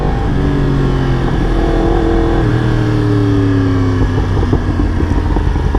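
A Yamaha R1 sport motorcycle engine hums loudly and steadily, pitch sliding down then rising as it shifts through gears while riding along a road.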